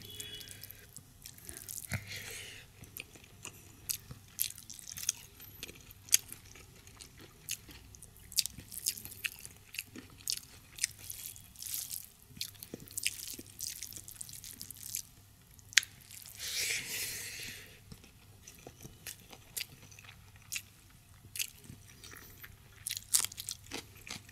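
Schezwan fried rice with Shahi Paneer being eaten close to the mic, with soft wet chewing, squishy bites and small crunches in an irregular rhythm, no talking, over a faint steady hum.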